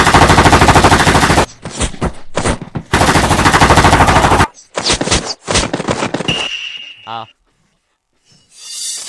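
Loud bursts of rapid machine-gun fire ring out in several long volleys, separated by short pauses, ending in a sharp whine and a brief silence.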